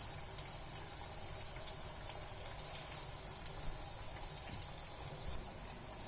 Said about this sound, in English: So I am frying multiple batches at this point of time